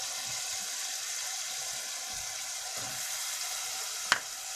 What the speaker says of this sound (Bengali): আমি এখন আলুটা দিয়ে দেব।